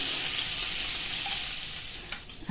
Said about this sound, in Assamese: আৰু এইপিনে এয়া মই মাছ ভাজি আছোঁ